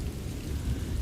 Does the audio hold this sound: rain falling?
yes